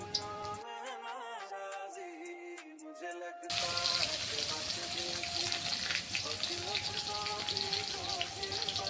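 Onions frying in oil for an Odia-style chicken dish, a dense steady sizzle that jumps louder partway through as the onions hit the pan, with a voice speaking over the early part.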